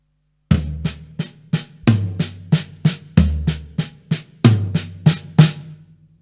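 Drums played by hand in a steady, quick paradiddle sticking pattern, alternating between deep and higher toms, sharp hits ringing close and clear with no other sounds.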